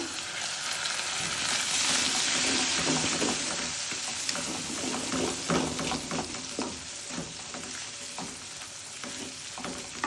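Egg noodles with soy sauce sizzling and frying in a pan, a steady loud crackle broken by the scrape and clatter of stirring.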